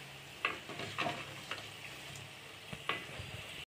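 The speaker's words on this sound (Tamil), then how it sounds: "இதை திருப்பி போட்டு இன்னொரு சைட் பொரிச்சு எடுத்துக்கலாம்" Tapioca vada frying in hot oil, a soft steady sizzle broken by a few light clicks and scrapes as the fritters are turned over with a utensil.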